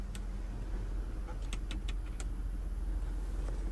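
Electric sunroof blind moving inside a 2022 Range Rover 3.0 LWB Autobiography, heard as a soft, steady motor whir under cabin hum with a few light clicks in the middle.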